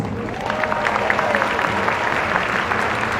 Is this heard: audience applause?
yes